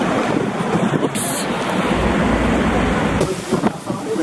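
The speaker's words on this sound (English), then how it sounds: "Look how windy it is." Strong wind on Mount Fuji in Japan buffets the microphone in a continuous loud roar, gusting and rumbling throughout.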